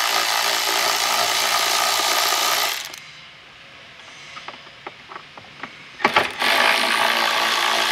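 Ratchet socket clicking out T40 Torx bolts from a tray on a 2015 Mercedes, a run of short, sharp ratcheting ticks in a quiet gap between louder stretches of broadband mechanical noise.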